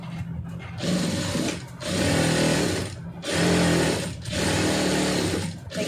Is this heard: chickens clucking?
no